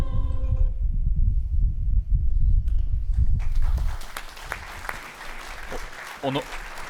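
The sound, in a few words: audience applause after video screening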